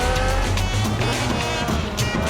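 A hatchback fitted with a 2.2-litre slant four-cylinder engine making 250 horsepower drives in Forza Horizon, its steady engine roar filling the track with a brief edge of tire noise.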